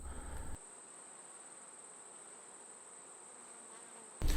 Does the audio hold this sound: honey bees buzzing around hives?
yes